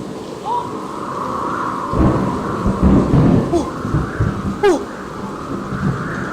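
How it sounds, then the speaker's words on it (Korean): Steady rain with low rolling rumbles of thunder building in the middle, a close crack near the end, no talking. "이게 무슨 소리예요, 친구들? 뭐가 오고 있어요? 맞아요, 비가 오고 있어요."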